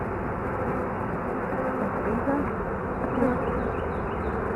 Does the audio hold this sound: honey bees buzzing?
yes